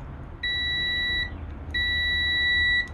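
A multimeter continuity test beep, two sustained high electronic tones, each lasting about a second with a short gap between, loud and clear over a quiet background.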